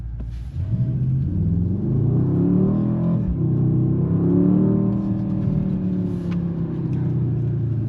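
A 2025 Mercedes-AMG GLE 63 S 4MATIC+ SUV launches in drag race mode, its engine not yet broken in and held below full power. A loud, close, deep rumble rises in pitch with a steady rev climb and no pause.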